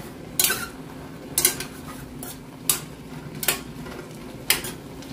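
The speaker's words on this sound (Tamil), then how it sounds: "பீன்ஸும் வெந்து கொண்டு வந்துட்டு நல்லா இருக்கா மிக்ஸ் பண்ணி விடுவோம்" A spoon stirs cooked beans in a metal pot, giving five sharp clinks and scrapes at roughly regular intervals over a low steady background, close and distinct, with no talking.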